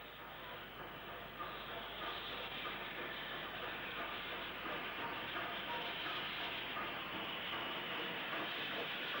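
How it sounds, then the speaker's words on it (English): A 264 tank steam locomotive hauls a Stafford to Shrewsbury passenger train via Wellington, giving a steady, continuous rumble with faint clatter of carriages at moderate distance, unbroken for the whole stretch. "This 264 tank is on a Stafford to Shrewsbury train via Wellington."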